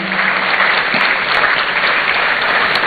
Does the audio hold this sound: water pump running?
no